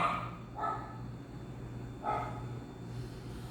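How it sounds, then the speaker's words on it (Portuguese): A dog barks three times at irregular intervals, somewhat distant and fairly quiet, over a steady low background hum. "Ah, não começa não, cachorro. Sossega aí."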